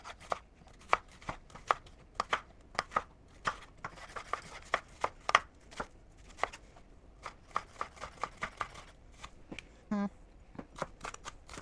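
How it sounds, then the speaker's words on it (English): A chef's knife slicing a big onion on a cutting board for shakshuka, crisp rhythmic chops in quick irregular succession, close and distinct, with brief pauses and a faint voice in between. "I think I prepare the slices like this."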